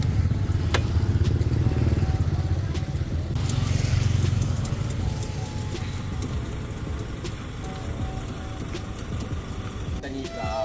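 A Yamaha 125ZR two-stroke motorcycle being ridden, its engine droning steadily at close range with a rough, buzzing low rumble that swells slightly partway through, with faint voices mixed in.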